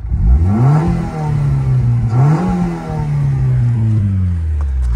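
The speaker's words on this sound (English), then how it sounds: "Let me rev it for you so you can hear it." A 1991 Honda Civic 1.6 VTEC engine revs up hard twice, pitch climbing and falling with each throttle blip, then settles into a steady rumbling idle.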